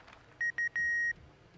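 An electronic phone call signal in the video game Library of Ruina: two short beeps followed by a longer tone, clear and alone against a quiet background.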